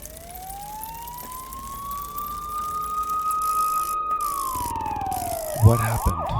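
A police car siren in a horror video game rises in a long slow sweep, then breaks into rapid yelping wails near the end, steady and fairly loud over a low ambient rumble, with no talking.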